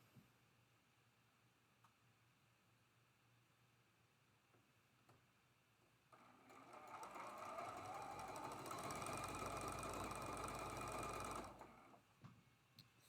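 A sewing machine stitches the middle seam of a quilt block, a steady buzzing run of about five seconds that starts after a quiet stretch and stops abruptly, followed by a few faint clicks.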